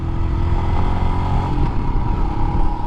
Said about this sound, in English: It's got a loud engine.